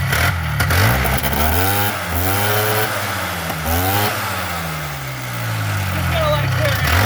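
A Polaris 4x4 engine runs at idle with a steady low rumble and a couple of short revs, close by, while people talk over it.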